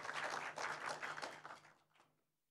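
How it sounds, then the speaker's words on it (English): Audience applause at an environmental summit, a brief burst of many hands clapping that holds steady for about a second and a half, then quickly thins and fades out. "Let's give him a huge round of applause."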